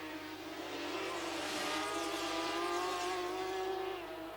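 Racing sidecar motorcycles at the Salzburgring during the 1989 FIM Sidecar World Championship, a steady high engine whine that swells and rises in pitch as the machines pass, with no talk.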